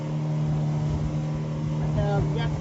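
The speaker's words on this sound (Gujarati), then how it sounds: "ફર્સ્ટ ટાઈમ સ્પીડ બોટમાં છું" A speedboat speeds across the sea while island hopping around Langkawi, its engine and rushing water making a steady, loud, close roar the whole time.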